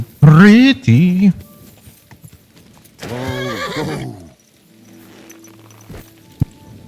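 A horse in Kingdom Come Deliverance 2 gives two loud close whinnies and then a longer neigh, followed by quieter hoof clops and shuffling.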